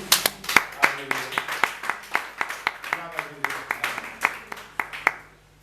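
A church congregation claps together in acclamation during a sermon, a steady rhythmic series of loud, close hand claps lasting several seconds, with no talk over it.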